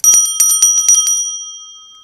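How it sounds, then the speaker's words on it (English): A small apple-shaped bell rings in a quick series of bright, clear strikes that leave sustained metallic overtones fading out on their own, close and loud. "And we have an apple bell, so the apple bell also goes with it."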